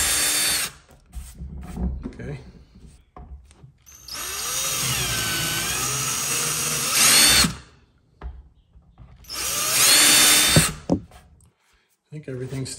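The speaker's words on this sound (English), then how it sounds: "So we're gonna drill that hole and then install that cap." A power drill with a 1/4-inch bit bores a hole in a gas can, giving two sustained, loud, close whining runs separated by a pause, with faint handling noise between them.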